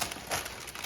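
Plastic grocery bags crinkle and rustle as they are cut up, a brief close burst of crackly noise.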